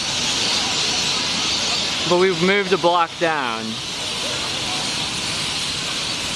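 A continuous wash of countless birds in Australia chattering loudly, with someone speaking briefly over the din.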